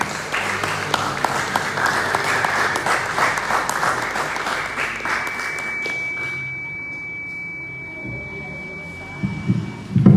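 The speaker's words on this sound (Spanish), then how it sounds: "Den un aplauso a Dios." A church congregation claps loudly during a Spanish-language sermon, the dense applause thinning after several seconds, leaving a steady electronic tone and faint room noise at the end.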